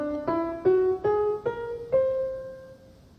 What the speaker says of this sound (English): if we start at the same place and go up only by whole tones